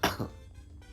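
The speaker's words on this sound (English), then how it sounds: "No, that's a cough." A single short cough, fairly close, followed by a brief quieter tail of room noise.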